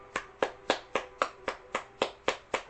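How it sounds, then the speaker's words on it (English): Clapping in a slow, even rhythm of about ten sharp, distinct claps, close and clear with nothing else around them. "Round of applause."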